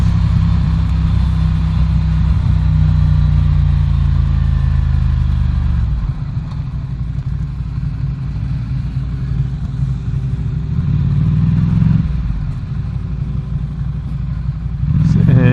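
A Ducati Scrambler Café Racer motorcycle engine drones loudly and steadily while riding mountain roads, its pitch shifting briefly a couple of times as the throttle changes, with no talking.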